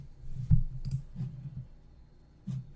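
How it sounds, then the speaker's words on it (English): Keys clack on a computer keyboard in a few soft, irregular clusters with quiet pauses between them, close by and without talk. "again, typing up."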